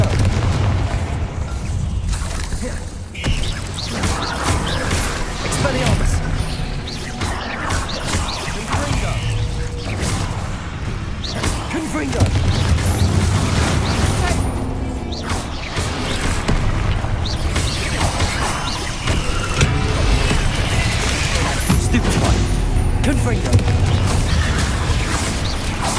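Confringo spell explosions in Hogwarts Legacy combat boom repeatedly amid a dense, loud battle mix of bursts, clatter and effects that continues without pause.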